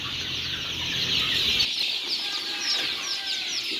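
Farm chickens, including Egyptian farm hens, cluck and call steadily at a poultry seller's farm, with a dense chorus of birds close by and no talk.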